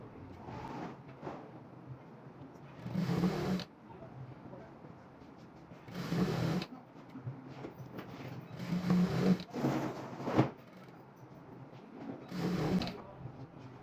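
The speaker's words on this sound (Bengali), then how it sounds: "এবার আমরা সেলাই করে নিব" A sewing machine stitching fabric for a pair of pants, running in several separate bursts of steady mechanical whirring with quiet pauses between them, up close.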